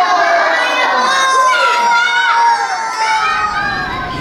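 A loud crowd of schoolchildren at a book week event cheers and shouts together, with high excited calls rising over a dense, continuous roar.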